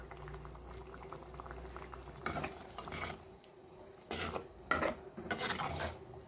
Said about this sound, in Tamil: தண்ணி தேவையான அளவு சேர்த்து கொதிக்க வைக்கணும்